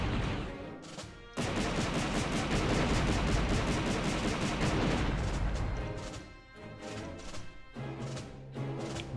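Rapid, sustained blaster fire from Star Wars: Shadows of the Empire, a dense burst of repeated shots that starts abruptly, rattles on loudly for several seconds, then breaks into shorter separated volleys.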